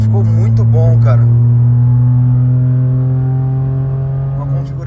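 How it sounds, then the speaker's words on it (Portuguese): Stage 3 tuned Volkswagen Up TSI, 181 wheel horsepower, with a fine, raspy exhaust note: a steady loud engine drone holding level for several seconds, with a voice talking over it near the start. "Uma configuração de escape aí muito boa também. Um ronquinho bem fino."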